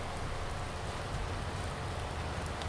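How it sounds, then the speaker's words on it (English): Rain pours down in Farming Simulator 19 during baling, a constant soft hiss of drops on surfaces, even and fairly quiet, with no one talking. "Baling in the rain."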